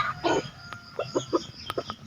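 Gamefowl chickens clucking close by in a series of short, rhythmic clucks with brief pauses between them, loud against a quiet yard background.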